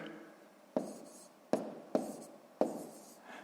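A pen or marker writes numbers for a subtraction problem, four short sharp scratchy taps and strokes on a surface at an uneven rhythm, close and quiet with no talk.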